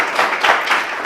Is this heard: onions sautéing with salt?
no